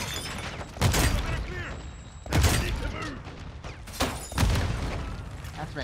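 Grenade explosions in Call of Duty: Modern Warfare 2 during a cartel protection mission: three loud booming blasts spaced roughly a second and a half apart, each trailing off with rumble and debris, amid background voices and gunfire.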